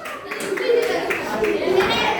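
A school class claps for a student group in an Indonesian classroom, a quick ragged patter of hands close by, mixed with children's voices talking over it.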